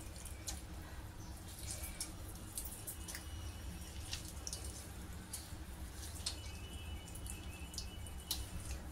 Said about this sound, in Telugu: ఈ వాటర్ని మొత్తము స్క్వీజ్ చేయాలి